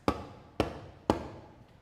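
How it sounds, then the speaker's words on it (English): A hand drum resting flat on the ground is struck three times at an even pace, giving short, dull, close thuds that fade quickly and carry less body than a tilted drum. "a drum that rests on the ground sounds like this."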